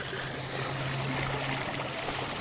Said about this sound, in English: Water sounds peaceful.